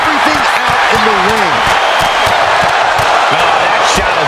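Arena crowd in WWE 2K25 cheering and whooping loudly and continuously behind an excited commentator's voice, with occasional thuds from the ring.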